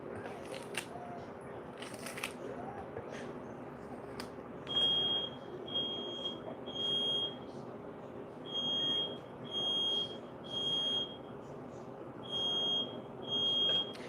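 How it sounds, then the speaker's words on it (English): A smoke or fire alarm in a kitchen gives short, evenly spaced high beeps in repeated bursts over a steady background hum, moderately loud and without speech. "You sure is the fire alarm one that?"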